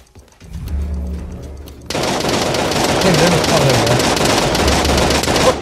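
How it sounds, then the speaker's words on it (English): LMG machine gun fire in the battle royale game Realm Royale, a loud sustained burst of rapid automatic shots that breaks in suddenly and keeps hammering, with game effects layered over it. "Somebody shooting at me with an LMG."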